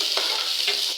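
Onion, capsicum and carrot stir-frying together for vegetable fried rice, a brief steady sizzle with a couple of quick stirring scrapes, close and alone.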